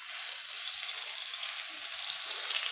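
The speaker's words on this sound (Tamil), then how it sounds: "இந்த மசாலாவை அப்படியே போட்டுருங்க" Masala sizzles steadily in leftover oil in a kadai while bitter gourd masala fry is cooked, a bright, even hiss of frying that carries on throughout with faint stirring underneath.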